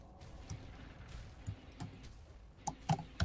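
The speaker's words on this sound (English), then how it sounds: "we can hear you spamming your keyboard" Scattered keyboard key clicks come through a player's open voice chat mic during an online World of Warcraft gathering, faint and irregular over steady background hiss, with a few sharper taps near the end.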